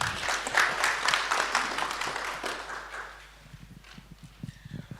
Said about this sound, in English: Once again, let's clap for them.